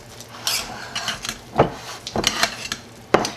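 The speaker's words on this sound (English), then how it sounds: "Let me stir it up and see where we're at" A utensil stirs a bacon cheeseburger sourdough skillet in a pan, scraping and clinking against the metal in irregular strokes with a few sharper knocks, close and fairly loud, no talking.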